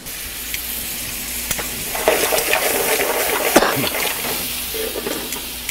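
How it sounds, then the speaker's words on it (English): Scallops sauteing lightly in a pan for a lobster bouillabaisse, giving a steady close sizzle with occasional stirring clicks and scrapes, a bit louder in the second half. "And I'm going to saute them lightly."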